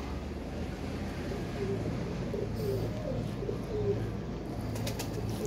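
Pigeons kept on farmland coo softly over a steady outdoor background hum and light wind, with several low repeated calls spread through the scene and no talking.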